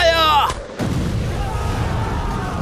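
A loud burst of battle gunfire and booming artillery in an audiobook battle scene, following a short shouted order, then a rolling rumble of continuing shots.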